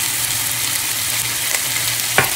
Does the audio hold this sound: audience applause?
no